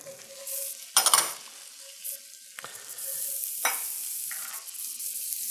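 Minced garlic sizzles in a pan with shallot, a steady quiet frying hiss broken by a few short bursts of stirring, close up and with no voices.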